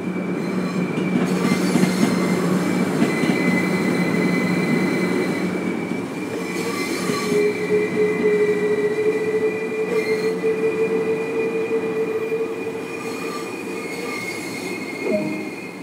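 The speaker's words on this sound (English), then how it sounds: "You're currently riding a Class 3774 electric multiple unit." A Class 377/4 electric multiple unit rolls along in the Train Sim World 2 game on the East Coastway line, a steady loud rumble of wheels with sustained high squealing tones and faint rhythmic clicks, no talk.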